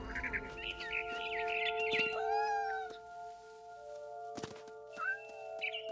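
A cat meows in the video game What Remains of Edith Finch. Several short, rising meows and chirps sit over sustained, soft, tonal music, fairly quiet, with a few light thumps.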